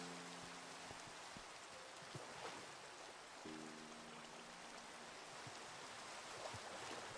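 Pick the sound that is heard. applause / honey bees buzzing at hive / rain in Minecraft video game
rain in Minecraft video game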